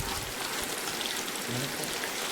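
Fish frying in hot oil over a low flame, giving a dense, even hiss of sizzling that holds steady and close throughout, with no talking.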